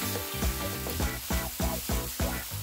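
Beetroot burger mixture in a hot pan deglazed with balsamic vinegar, a loud close sizzle with rhythmic stirring scrapes repeating about twice a second, no talk.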